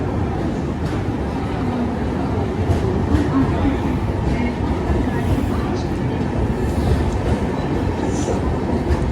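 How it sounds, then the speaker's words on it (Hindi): A train departing Sawai Madhopur railway station rumbles steadily with continuous low rolling noise and faint clatter, loud and close throughout, with no clear breaks. "अपनी ट्रेन निकल चुके सवाई माधोपुर रेलवे स्टेशन"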